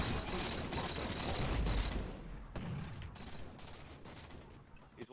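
Rapid bursts of Boltshot gunfire in the Halo 4 multiplayer video game, dense overlapping shots and booms over a few seconds, fairly faint in the mix with muffled player chatter underneath.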